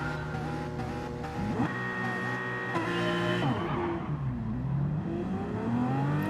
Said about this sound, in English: The revs go up, the lights go on.